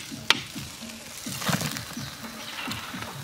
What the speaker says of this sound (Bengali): শঙ্কর মাছ প্রচন্ড ফুটতিছে